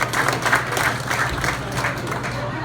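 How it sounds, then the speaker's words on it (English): A crowd at a community event applauds steadily, with dense, even clapping throughout and a faint hum underneath. "Let's give him a round of applause."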